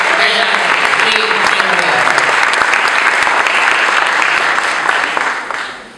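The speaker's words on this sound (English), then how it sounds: "Gene, let's give Gene a big round of applause" Loud, dense applause from an audience honoring Gene Walsh, an early gay activist and Fireflag founder, at an LGBT recognition event, sustained for about six seconds before tapering at the end, with faint voices mixed in.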